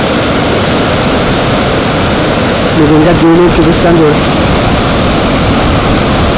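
Seethapalli stream and waterfall near Rampachodavaram, swollen by heavy rains, gives a loud, steady, continuous roar of rushing water close by, with someone speaking briefly over it.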